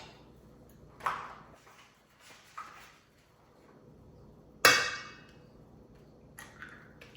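Large eggs are cracked one after another, giving three sharp, close snaps at uneven intervals with the loudest last, separated by quiet kitchen stillness.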